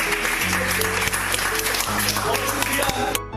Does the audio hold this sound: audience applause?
yes